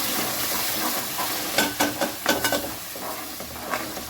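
Green paste goes into frying soya chunks masala with tomato, green chilli and ginger-garlic paste, giving a steady hiss and sizzle with a rhythmic series of louder scraping stirs in the middle.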